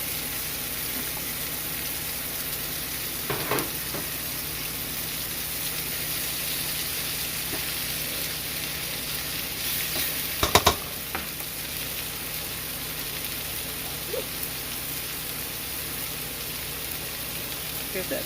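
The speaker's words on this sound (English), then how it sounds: "we'll go ahead and add some of our pasta" Pasta tipped into a sizzling pan of shrimp and vegetables with pesto, a steady low frying hiss with a couple of brief clatters of stirring, while a voice speaks now and then over it.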